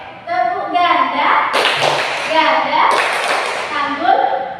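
A group clapping game with single and double claps during a guidance group session: sharp broadband claps land in bursts between lively chanted voices, with people talking and calling out throughout.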